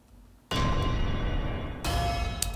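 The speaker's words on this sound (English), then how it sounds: "I paired it with an alchemy warning bell." A Logic Pro Alchemy warning bell layered with percussion sounds as two loud, bright metallic hits, each ringing on with a dense low thump beneath, alone without talk.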